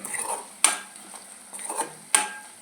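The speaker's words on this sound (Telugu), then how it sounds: "వాటిని బాగా కలియబెట్టాలండి." Snack ingredients and salt being stirred in a pan, with soft scraping and two sharp clinks of a utensil against the metal, close and fairly quiet.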